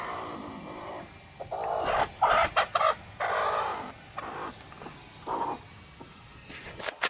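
A brooding hen clucks in uneven bursts while sitting on eggs, close by, with short pauses between the throaty calls.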